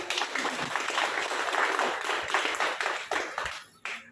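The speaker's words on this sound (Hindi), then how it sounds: "तो मेरी मम्मी के एक बार जोरदार ताली हो जाए" An audience at a seminar in Vasco da Gama, Goa, applauding someone's mother; a steady burst of clapping that tapers off into a few scattered claps near the end.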